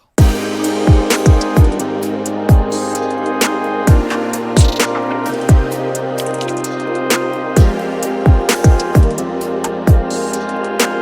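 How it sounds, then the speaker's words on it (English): Electronic chords ring out over a punchy drum beat with deep kicks, crisp hats and rides, playing steadily in a loose groove, in an alt dark pop style. "And this is how the chords and the drums sound together."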